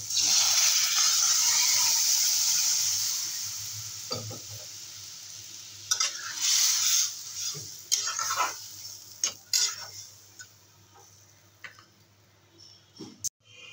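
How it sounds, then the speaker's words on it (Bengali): Mashkalai dal poured into a pot for a village-style dish with jute leaves: a steady hissing wash of liquid for several seconds, then scattered clinks, stirring scrapes and light taps close by, with no talk. "এবারে ডালটা ঢেলে দেবো।"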